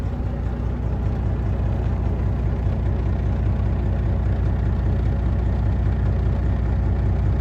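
A 2015 Kenworth W900L glider-kit truck's diesel engine runs steadily and loudly up close, a continuous low rumble holding smooth through its revs without interruption.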